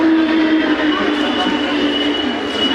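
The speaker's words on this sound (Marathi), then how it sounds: "ठाणे ट्रेन आलेली, पण आपण याच्याने जाणार नाही" A Thane local train pulls into a station, its loud steady rumble and rolling wheel noise joined by a thin squealing tone, close and continuous.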